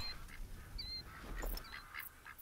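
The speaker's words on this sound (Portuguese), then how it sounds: "Tô escutando os barulhos dos patos." Mallard ducks quack and honk in scattered calls in the hunting game The Hunter Call of the Wild, several birds at moderate distance over a quiet outdoor ambience.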